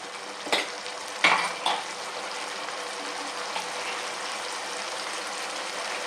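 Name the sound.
sautéing vegetable curry with turmeric in a pan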